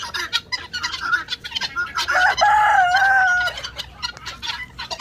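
Chickens and roosters in a farm coop cluck in quick bursts, and one rooster crows loudly and up close over the ongoing clucking.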